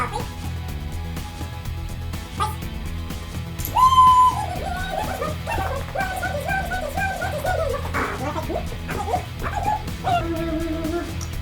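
During place-command obedience training, a dog whimpers and whines in a run of high, drawn-out, wavering cries with a few yips, close and fairly loud, over a steady background.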